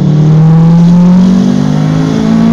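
A Toyota MR2 Turbo, a rear-drive modified sports car on a straight-line drag strip, accelerates with a loud, close engine note rising smoothly in pitch under partial throttle.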